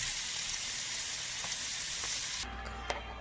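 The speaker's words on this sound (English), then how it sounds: "So now that I've added my steak, I'm going to add my onions and green peppers." Steak sizzles in a pan on the stove with a steady bright hiss, then drops quieter partway through, leaving a softer sizzle with a couple of faint clinks.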